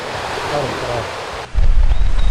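Sea waves and wind at a beach corniche make a loud, rushing roar. Wind buffets the microphone throughout, and a heavier low rumble sets in partway through.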